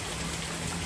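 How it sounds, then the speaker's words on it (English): Rain falling outdoors, a steady dense hiss of drops with no pauses, close and even, with no talking. "I was wiping off the rain."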